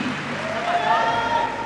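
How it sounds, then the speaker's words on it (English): A gymnastics arena crowd at the Commonwealth Games women's all-around final gives a short burst of warm applause, with a commentator talking over it the whole time. "Crowd giving her warm applause"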